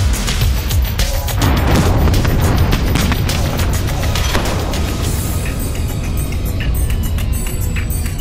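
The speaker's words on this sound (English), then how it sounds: "the crew of the armored personnel vehicle practices live fire for the first time" Live-fire exercise by an armored personnel vehicle crew at a firing range in the canton of Glarus, a loud, continuous roar of rapid heavy weapon fire with repeated booming blasts, close and dense throughout.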